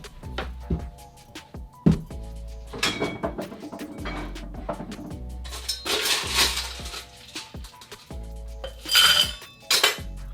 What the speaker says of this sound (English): get your shaker and put in 4 to 5 ice cubes